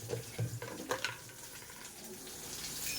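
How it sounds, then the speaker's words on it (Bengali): Mango pieces frying in oil with chili and mustard seeds, a faint sizzle with a few soft stirring knocks early on, then a quieter steady hiss. "দিয়ে আমটা একটু ভাজছি"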